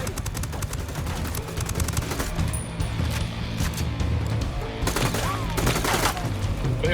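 Sustained gunfire in Ghost Recon Wildlands, a dense fusillade of rapid shots rattling over low rumbling background noise, steady throughout with bursts growing louder toward the end.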